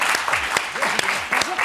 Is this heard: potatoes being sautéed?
no